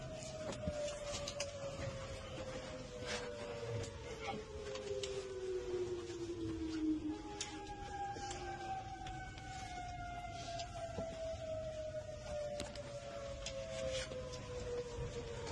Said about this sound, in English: Have the sirens in this airbase always sounded like that?